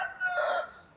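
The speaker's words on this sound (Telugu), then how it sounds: "పెద్ద పుంజు అది" A large rooster in a basket crows once nearby, a short loud strained call that trails off within a second.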